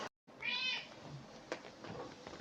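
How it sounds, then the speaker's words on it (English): A cat meows once, close and clear, with a rising and falling call lasting about half a second, followed by a quieter room with faint scattered noises and a brief click. "that was good timing on the meow"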